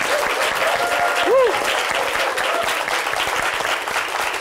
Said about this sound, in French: Je vous invite à applaudir et à accueillir Jamal Schle